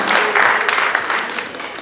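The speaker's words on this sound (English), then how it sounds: "Round of applause again for Zuri" An audience at a youth entrepreneur pitch competition gives a loud, dense round of applause that peaks early and then gradually tapers off, with some faint crowd voices underneath.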